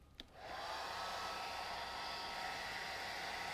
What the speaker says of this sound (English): So, a hairdryer.